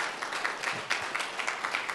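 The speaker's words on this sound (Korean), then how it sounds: "박수 한번 쳐드리시죠." Audience applause at a Gwangju policy platform launch ceremony: a steady, fairly faint wash of many hands clapping for about two seconds, with no voices over it.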